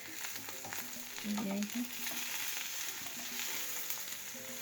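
An egg frying in hot oil in a home kitchen gives a steady sizzle and crackle throughout, with a brief spoken remark near the start.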